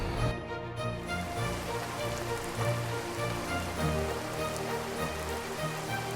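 Heavy monsoon rain pours steadily during a low-pressure downpour in Aroor, Kerala, a dense continuous hiss of drops beating on surfaces close by, with no voices.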